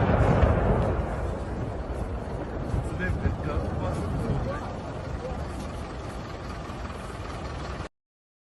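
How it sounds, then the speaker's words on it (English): A rocket fired near an airport makes a loud rushing roar that starts strong, holds as a broad harsh rumble, then fades somewhat before cutting off abruptly. "this is a rocket that was fired near the airport"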